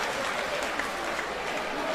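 Arena crowd at a boxing match applauding steadily as a downed fighter gets back to his feet, a dense continuous wash of clapping and cheering throughout.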